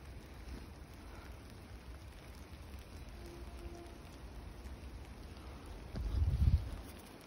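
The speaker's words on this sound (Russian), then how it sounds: "Такой вот сегодня дождливый лес." Soft, steady rain patters through a forest on a grey December day, a faint even hiss close around. Near the end comes a brief, louder low rustle or thump.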